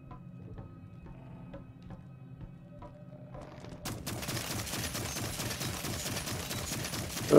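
In the video game Dolmen, an ice gun opens up after a quiet stretch of clicks and tones, loosing a rapid continuous burst of shots that runs loud and dense to the end.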